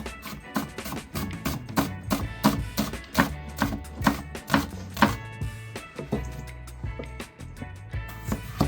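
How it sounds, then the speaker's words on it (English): A knife julienning onions on a cutting board, a fast, even run of sharp close chops knocking against the board, steady rhythm throughout with no speech. "Julienne the onions."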